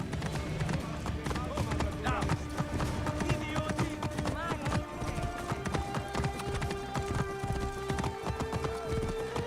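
Rapid clip-clopping horse hooves gallop steadily in Assassin's Creed Origins while voices talk loudly over them.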